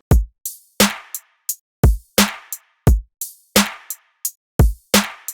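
A free-form bass production drum loop plays alone: punchy kick hits alternate with sharp layered snares in a steady, loud repeating pattern, with short hi-hat ticks between.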